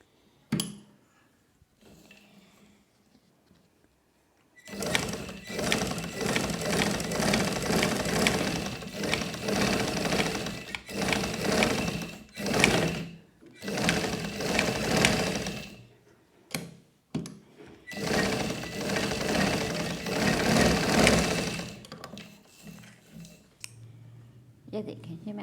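Sewing machine stitching an umbrella frock in several bursts of rapid, close mechanical chatter separated by short pauses, with quieter stretches at the start and end.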